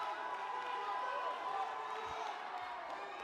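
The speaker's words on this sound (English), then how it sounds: "Crowd going nuts." A fight crowd at an MMA title event roars in a continuous wash of cheering, distant and dense, with no single voice standing out.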